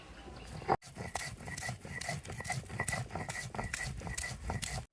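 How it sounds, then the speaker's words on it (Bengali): Taro paste being ground on a shil pata grinding stone gives a close, rhythmic scrape as the stone rolls back and forth in even strokes, about two a second, after a short knock and pause at the start. "সব একসাথে নিয়ে মিলাপ করে বেটে নেবো"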